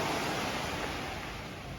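Steady broadband wash of surf on Pak Meng Beach in Trang, Thailand, a beach with shifting currents and erosion, heard as continuous even rushing noise with no distinct breaks and no voices.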